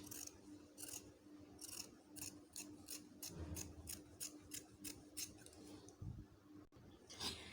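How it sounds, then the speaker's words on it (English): Scissors snip repeatedly through doubled African print fabric while making bedroom slippers, a steady series of close, crisp cuts with short pauses between strokes. "after you are done cutting on our African print"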